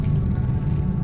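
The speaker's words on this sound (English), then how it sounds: "See, this is why you want to have the custom door sounds." A big door in a Quake mod opens with a deep, continuous low rumble, loud and heavy, lasting about a second with no voices.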